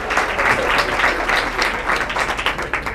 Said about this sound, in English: I'd like to give Danny Estrada a round of applause